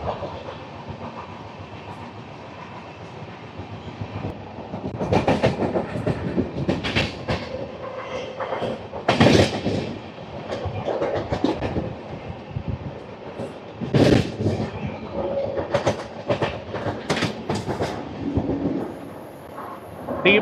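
A special train diverted from Chennai Egmore toward Visakhapatnam passes through Srikalahasti railway station without stopping: a steady rolling rumble with loud, rhythmic clickety-clack bursts over points and rail joints, heard close and continuous for about twenty seconds.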